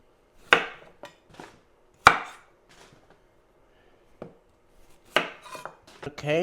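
A knife working through carrots on a cutting board, several separate crisp chops with short decaying knocks and pauses between them, close and clear with no speech.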